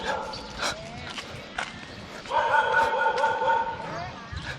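Several stray dogs crowd around outdoors, giving yips and barks close by. A whine rises in the middle, and people's voices and street noise run underneath.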